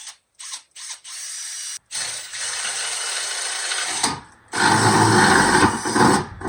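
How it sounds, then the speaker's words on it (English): A power drill with a step drill bit runs in short bursts, then grinds steadily through a metal motorcycle oil pan with a harsh, rising whine that stops briefly before a louder final push. "I'm just gonna use this step drill bit"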